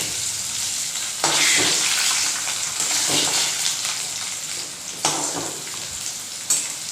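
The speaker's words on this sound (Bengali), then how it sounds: "আলুটা খুব সুন্দর করে লাল লাল করে ভেজে নিতে হবে" Potatoes fry in a pan over a medium-low gas flame, giving a loud, steady sizzle with brief bursts as they are stirred.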